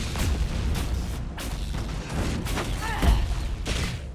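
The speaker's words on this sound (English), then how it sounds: "Energy barrage" The Energy Barrage spell is cast in Dragon Age Inquisition, a video game. A few seconds of booming, crackling magical blasts and bursts come in repeated surges, with no talk over them.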